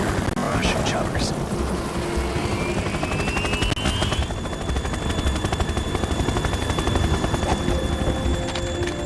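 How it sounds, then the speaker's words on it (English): Russian Kasatka helicopters in Metal Gear Solid 2, a loud, steady rotor drone with a rising whine and bursts of gunfire, under game voices. "Kasaka. Russian choppers."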